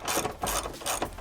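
A ratchet loosens a bolt on a RIB 130 Slider seat bed being fitted in a camper, giving three quick close-up clicking strokes in a short burst.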